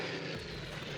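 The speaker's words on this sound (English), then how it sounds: "I'm going to start doing bombing runs on the" Steady droning aircraft engine of a bomber on a bombing run in the strategy game Unity of Command 2, a continuous broadband roar held at even loudness for the whole second with no talk.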